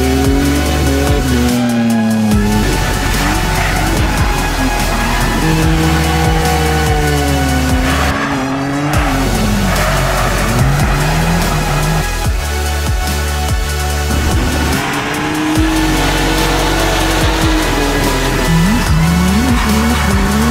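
Cars at an SDC practice session race around the track, engines roaring loudly and continuously with rising and falling pitch as they pass close by, tires squealing and skidding through the corners.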